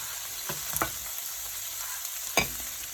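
Prawns frying in a pan, a steady close sizzle with a few sharp clicks of stirring or turning, no voices.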